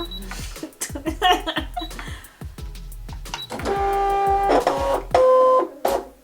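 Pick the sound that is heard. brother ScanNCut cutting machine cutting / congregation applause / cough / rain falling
brother ScanNCut cutting machine cutting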